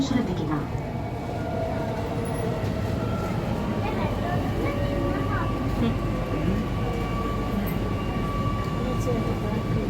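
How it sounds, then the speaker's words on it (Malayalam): A Kochi metro train ride on a Safari Vande Bharat cruise trip fills the clip with a steady low rumble and rolling rail noise. A faint whine runs through it, and a voice talks over the constant hum. "സഫാരിയുടെ വന്ദേ ഭാരത് ക്രൂയിസ് യാത്രയിലെ മെട്രോ യാത്രയാണ് ഇപ്പൊ നടന്നുകൊണ്ടിരിക്കുന്നത്"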